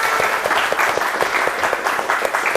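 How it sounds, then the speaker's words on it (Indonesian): A classroom of students applauds together, a dense, steady patter of many hands clapping at close range that fills the whole moment with no talking over it. "Tepuk tangan dong buat kita semuanya."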